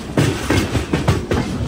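The Devagiri Express runs into Basar station, its wheels beating out a loud, regular clickety-clack of evenly spaced rail-joint knocks over steady rolling noise.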